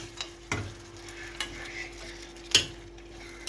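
A wooden spoon stirs tomatoes in a pan of meat sauté, giving a few distinct scraping knocks against the pan over a faint background hum, with soft sizzling between strokes.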